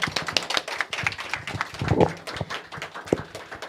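A church congregation at a Sunday worship service claps in celebration, with scattered, uneven hand claps of moderate loudness and a few sharper individual claps standing out.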